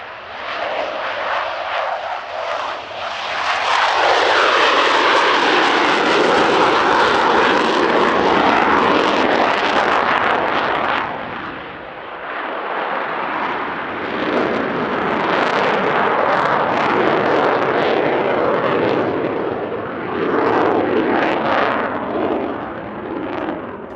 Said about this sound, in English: The Finnish Air Force's Hornet solo display has become renowned as one of the best